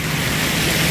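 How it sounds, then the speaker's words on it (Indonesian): Steady rain falls outside a bicycle shop, a dense, even hiss that continues unbroken throughout. "Kondisi hujan ya sekarang."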